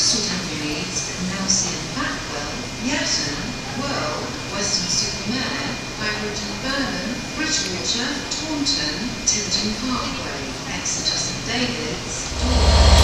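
A passenger train rolls through a station, steady rail rumble and clanking wheels beneath a busy wash of voices, ending with a louder low swell.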